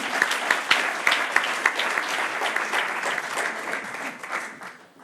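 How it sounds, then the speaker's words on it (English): Applause for Johanna at the Swiss Who's Who NextGen Awards, a burst of clapping from the audience that gradually fades out. "Let's have a round of applause for Johanna."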